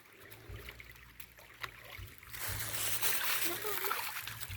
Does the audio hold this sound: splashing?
yes